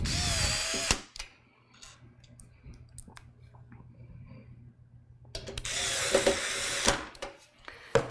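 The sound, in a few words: power screwdriver driving screws into a computer power supply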